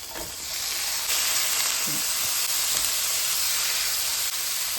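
Potatoes and peas being stirred with spices in a hot frying pan, a steady loud sizzle and hiss with faint scraping from the stirring, no talking.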